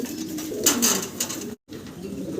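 Soft, low fantail pigeon cooing with a brief rustle, close by, over steady background noise at a pigeon farm; a short dropout cuts the sound near the end.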